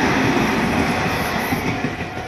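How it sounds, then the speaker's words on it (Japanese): A former Skytree Line 30000 series train pulls away past a level crossing on the Tobu Tojo Line near Kawagoe Station, giving a loud, close, continuous rumble of wheels on rails. "元スカイツリーライン3万系が出発ですね"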